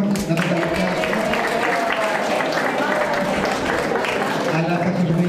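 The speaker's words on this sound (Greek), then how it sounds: "Ένα χειροκρότημα" Applause from an audience at an art exhibition opening, a dense, steady clatter of clapping running the full length alongside talk.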